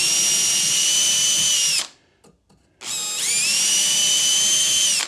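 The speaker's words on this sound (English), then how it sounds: "So I'm just going to drill a hole through each one." A power drill bores through soft oven brick, whining loudly and steadily, cutting out for about a second as the trigger is released, then spinning back up and running on at full speed.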